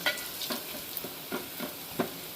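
Garlic frying in a pan for a moong dal and greens dish, a continuous close sizzle broken by repeated spatula stirs and scrapes at an uneven pace, quiet and with no talking.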